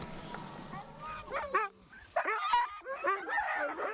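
Hunting sled dogs barking and yipping in a close, excited chorus, with sharp overlapping barks and whines coming in bursts.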